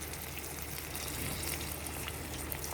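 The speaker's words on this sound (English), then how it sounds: "So now we're going to put in a little bit of water." Water poured into a hot pan of seared herbed chicken gives a steady, dense hiss and wash of liquid that holds at an even level throughout, close by and without any talk.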